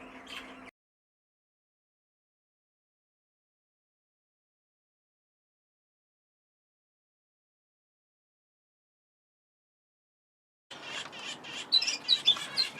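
Finches and fife canaries in an outdoor aviary flight chirping and twittering, a brief burst at the start, then silence, then a busy, fairly close flurry of calls at the end.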